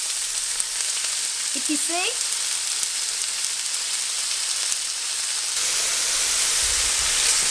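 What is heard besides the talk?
cheesesteak meat sizzling on a hot griddle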